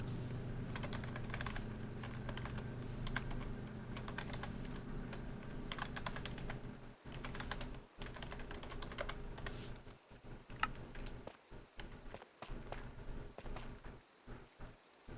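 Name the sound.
typing on a computer keyboard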